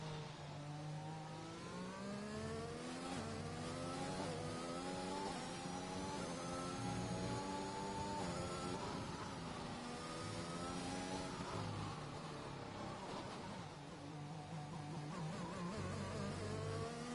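A Mercedes racing car engine in a racing game screams through a flying lap in Portugal, held close on board, its pitch climbing and dropping steadily through gear changes and corners.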